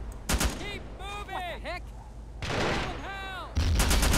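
Mortar and gunfire in an Iraq War 2003 mod of a war video game, sharp loud blasts at the start, middle and end, with someone talking between them.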